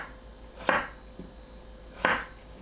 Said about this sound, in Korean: 오이와 비슷한 크기로 썰어주세요.